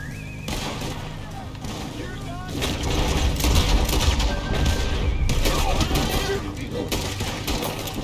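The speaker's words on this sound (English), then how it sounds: "Careful, partner. You're shooting back." A shootout in a staged bounty-hunter scene: dense, continuous gunfire and booms mixed with shouting voices, loud and chaotic for the whole stretch.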